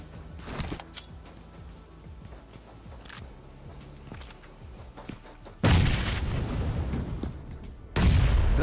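Two grenade explosions in PUBG Mobile, each a sudden loud blast with a sustained roar, the second following a few seconds after the first, preceded by quieter scattered gunshots and footsteps.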